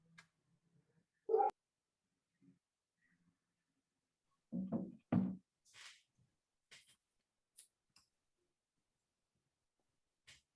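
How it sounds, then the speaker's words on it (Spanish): A few dogs at a home give sparse, separate barks and yips spread over several seconds, with quiet gaps between them and one louder pair of barks near the middle. "Los perros de la Fran Bueno, acompañan. saludan"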